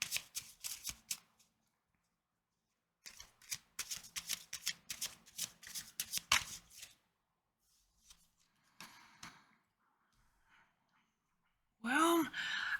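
Tarot cards being shuffled by hand, close and quiet, in several bursts of rapid riffling flutter separated by silent pauses, with a brief sigh and a voice near the end.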